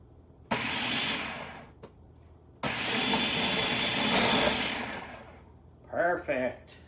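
A food processor fitted with a larger slicing blade runs in two loud, steady bursts of whirring motor noise, separated by a short pause, followed by a brief voice.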